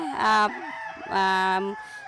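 Country chickens on a poultry farm give two loud, close, drawn-out crowing calls separated by a short pause, with faint clucking between them.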